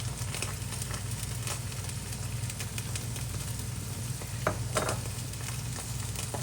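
Vegetable noodles stir-fried street style with soy sauce, tomato ketchup and green chilli sauce give off a steady, close, dense sizzle, with scraping stirs breaking through now and then and no talking.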